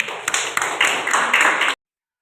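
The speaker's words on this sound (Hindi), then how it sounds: "इनके लिए ताली हो जाए।" A classroom of students breaks into brief applause, bursts of many hands clapping together for under two seconds before stopping abruptly.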